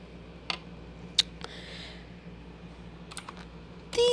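Several scattered keystrokes on a Motospeed CK61 mechanical keyboard, sharp isolated clacks in a quiet room, ending in a quicker cluster of taps and a louder clack.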